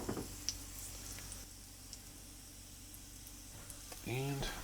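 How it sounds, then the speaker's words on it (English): Olive oil sizzles quietly in a pan with a steady, faint crackle and a few light ticks, ending in a louder burst of frying with a brief voice. "we are going to add a little bit more olive oil to the"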